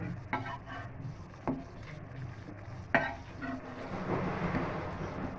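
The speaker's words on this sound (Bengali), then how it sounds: "তাওয়া গরম হয়ে গেছে, এবার দিয়ে দিচ্ছি বাটার মাখানো পাউরুটি।" Buttered bread slices laid on a hot griddle frying in batches of four, a soft steady sizzle with a few sharp clicks and taps of a utensil against the pan, close by and fairly quiet.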